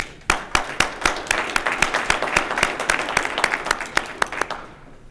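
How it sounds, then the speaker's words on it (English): A crowd applauds steadily at a community meeting, many hands clapping in a dense, even burst that fades out at the end. "as our mayor states sometime, deserves a hand clap"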